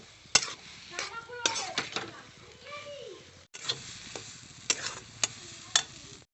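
Potato and cauliflower filling for cutlets is stirred and scraped in a pan, with sharp spatula knocks against the metal and a soft sizzle, while someone talks and a voice is heard briefly.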